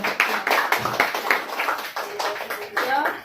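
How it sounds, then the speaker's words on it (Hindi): An audience claps at an award felicitation, an uneven run of close, percussive hand claps in loose bursts, lasting a few seconds. "जोरदार तालियों के साथ"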